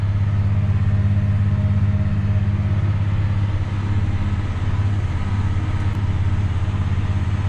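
Steady, loud farm tractor engine running at constant speed in 11th gear in a field, a continuous deep drone with no pause or clear shift, alone without talk.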